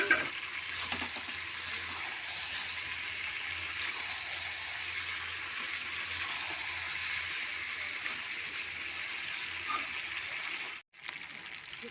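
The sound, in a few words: water poured into chicken curry pot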